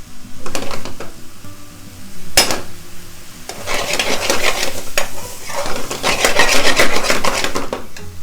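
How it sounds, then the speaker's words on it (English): Chana masala is stirred in a pan: a spoon scrapes and rubs steadily over a soft background sizzle, loud and close, with no talk. "And then you want to mix it."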